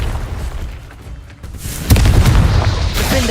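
Confringo blasting spell explosion in Hogwarts Legacy, a loud booming blast that erupts partway through after a softer rumbling lead-in, with lingering crackle afterward.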